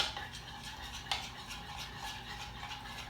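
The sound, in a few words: stirring chocolate chips into batter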